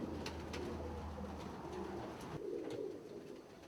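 A pigeon coos softly in low, repeated murmurs against a faint background of other birds chirping.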